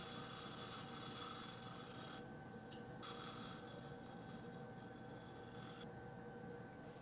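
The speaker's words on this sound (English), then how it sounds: "I drilling with the point drill, and then use the Lindemann drill to guide the path" A dental implant drill boring into the upper premolar bone during an implant placement, a steady high whir running for several seconds with brief dips in pitch partway through, close and fairly quiet.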